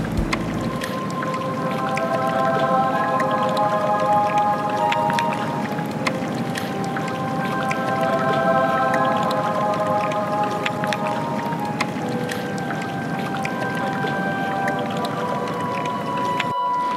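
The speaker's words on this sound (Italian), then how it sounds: "ascoltando il crepitio del ghiaccio che si stacca" Glacier ice in Iceland cracking and breaking away, a steady wash of creaks, squeals and crackles that keeps going without a break, with wind and water noise underneath and no one talking.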